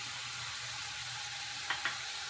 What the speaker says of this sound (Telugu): 1 నిమిషం పాటు ఫ్రై చేయాలండి ఈ తాలింపు మొత్తాన్ని.